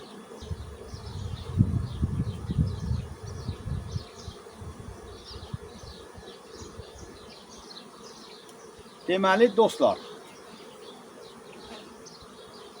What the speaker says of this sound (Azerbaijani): bu bizim erkək arı yetişdirən ailələrimizdir